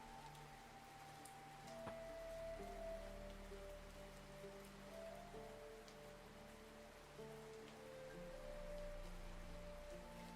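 Soft, distant rain patters as background ambience in a Witcher tabletop role-playing session, a quiet, continuous wash that sits under faint sustained musical tones with no talking.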